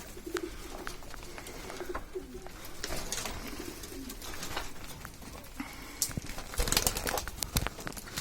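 Homing pigeons coo softly in a low, repeated murmur in a shared loft, with occasional wing flaps and faint background voices nearby.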